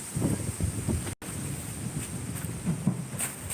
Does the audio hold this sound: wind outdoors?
yes